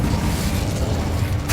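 Incendio fire spell cast in Hogwarts Legacy, the video game, heard as a loud, steady burst of roaring, whooshing magical fire with no voices over it.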